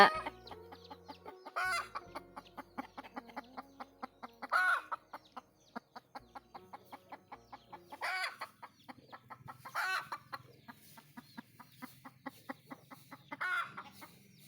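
A rooster and hens on a village farm cluck repeatedly in close, steady bursts, with occasional louder calls and no talking.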